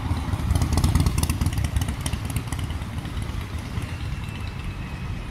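Motorcycles idling and clattering in a parking area on a street in Barcelona's La Illa district, a steady engine rumble close by that is loudest in the first second and then holds evenly throughout, with no talk.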